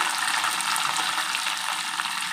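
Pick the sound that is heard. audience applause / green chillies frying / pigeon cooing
green chillies frying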